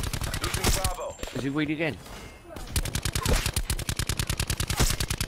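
Rapid automatic gunfire in Call of Duty Black Ops 4 rattles loudly and close in fast bursts, pausing briefly while someone speaks, then resuming in a long sustained stream.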